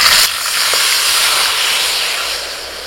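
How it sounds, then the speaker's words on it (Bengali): Water poured into spiced fish curry frying in hot oil, a loud burst of hissing steam that settles into a steady close sizzle with no voices. "এবার মশলাটা ধুয়ে জলটা দিয়ে দিচ্ছি।"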